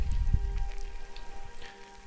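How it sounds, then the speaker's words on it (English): Rain begins falling in a video game, a soft patter of drops with a few heavier low thumps at the start, then quieter, faint and steady with no talking. "Uh-oh, starting to rain."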